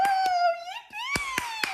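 Hands clapping behind a young girl who has had a cochlear implant: several sharp claps ring out at irregular intervals over a sustained tonal voice-like hum, moderately near.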